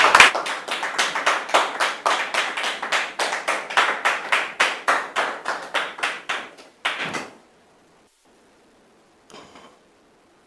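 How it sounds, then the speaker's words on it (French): Audience applause greeting a mother and her son at a church event, a steady round of clapping for about seven seconds that then stops, followed by a couple of faint taps. "sous vos applaudissements."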